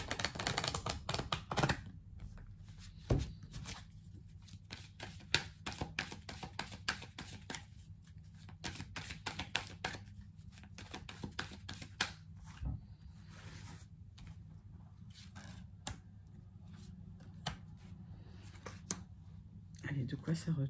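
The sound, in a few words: shuffling coffee mood oracle cards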